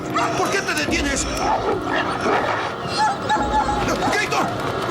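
A dog barks, yips and whimpers in short, excited bursts, mixed with people talking over it in a busy, close scene from a television drama.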